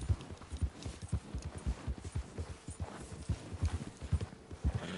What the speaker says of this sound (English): Can this horse calm down?